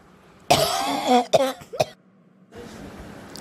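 A person coughs near the microphone, a rough burst followed by two or three shorter throaty coughs, then quiet hiss.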